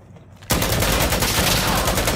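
Loud, sustained automatic gunfire erupts suddenly in a video game shooter after a quiet start, a dense rapid burst of shots rattling on without pause.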